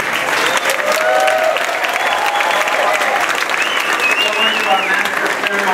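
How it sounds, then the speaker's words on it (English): A crowd of students, staff and faculty at a university gathering gives a big round of applause, a loud, dense and sustained clapping that lasts the whole stretch. "Let's give everybody again for this big round of applause."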